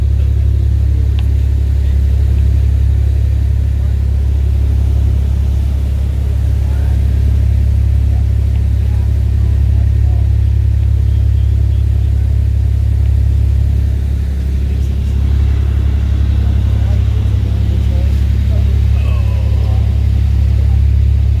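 A car engine revs and rumbles loudly and continuously for about twenty seconds, a deep steady drone with slight swells near Bodega Bay aboard a fishing boat setting.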